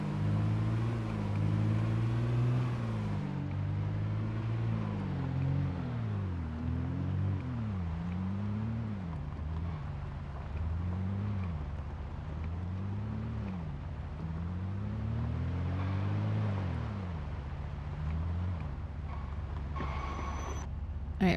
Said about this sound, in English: I'm gonna leave my car running because it has been having a tough time recently restarting